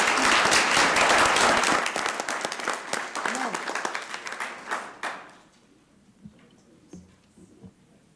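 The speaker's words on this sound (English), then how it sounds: "We want to give you another round of applause" Applause from people gathered at a city council meeting rolls loudly for several seconds, then thins out and stops, leaving quiet room noise with faint voices.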